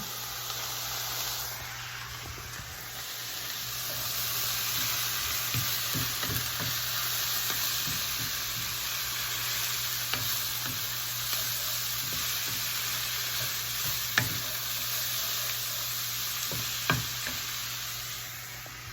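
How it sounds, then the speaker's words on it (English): Mushrooms sizzle steadily in a pan, a continuous frying hiss with scattered soft pops and clicks throughout, no voices. "You can hear it sizzling."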